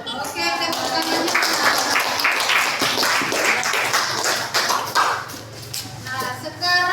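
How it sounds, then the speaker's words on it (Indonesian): Classroom applause after a student presentation in an Islamic studies lesson, a dense patter of clapping hands running the whole stretch with chatter and clinking mixed in, fairly close and steady. "Oke, tepuk tangannya."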